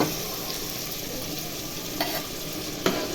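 Onion, beans, carrot and peas fry with masala in a hot pan, a dense steady sizzle close up, with a couple of sharp utensil scrapes from stirring; no voices.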